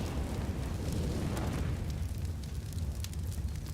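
Grenades blast during a Counter-Strike match at a BLAST Premier tournament, a heavy booming rumble that rolls on without pause, loud and dense.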